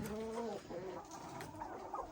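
Chickens cluck softly in short bursts on a small farmyard, with faint background noise and no one talking.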